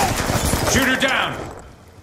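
Gunfire from Black Ops 2 cracks in a rapid burst of shots, loud and close, fading out over the last half second amid a brief voice.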